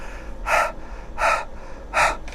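Three forceful huffing breaths, evenly spaced and close, each a short breathy burst over quiet room noise.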